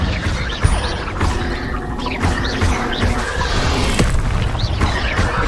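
The Incendio fire spell fires repeatedly in Hogwarts Legacy combat: a run of loud, close fiery bursts and crackling impacts over a steady, busy mechanical rumble, with no talk.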